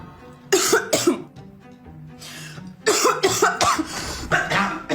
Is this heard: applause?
no